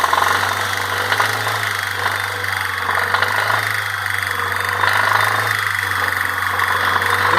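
A Chery Cielo 1.6 16v engine runs steadily above 3000 rpm with a faulty internal noise, giving a constant mid-pitched hum and hiss under a faint metallic rattle, heard close with no talk.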